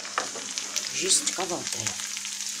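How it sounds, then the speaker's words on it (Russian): Potatoes with onion and carrot frying in a large pan: a steady, close sizzle with bursts of crackle and scraping as the food is stirred, and someone says a word over it. "Большая сковородка не быстро жарит."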